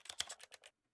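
A rapid burst of computer keyboard clicks, about six close, crisp keystrokes within well under a second, then silence; no voices.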